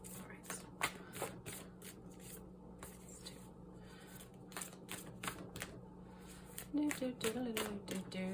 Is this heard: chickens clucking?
no